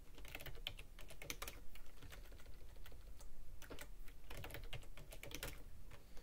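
Rapid clicking of code being typed on a computer keyboard, irregular bursts of keystrokes with brief pauses, close and steady, no voices.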